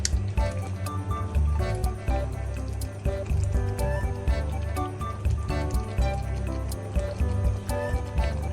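Chicken pieces coated in masala are stirred in a pan for a Kerala-style chicken curry, giving a steady wet squishing and sizzling with small clanks, close and continuous, with no talking over it.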